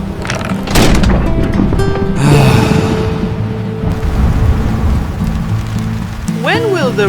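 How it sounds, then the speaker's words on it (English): Cartoon rain pours down steadily in a loud, close wash of patter with a few dull thuds, and a voice speaks briefly near the end. "When will the rain stop?"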